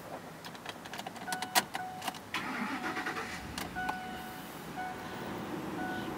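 A 2009 Ford F150 STX pickup with about 90,000 miles, its engine cranking and catching, then settling into a steady idle, heard close with a few clicks and thumps at the start.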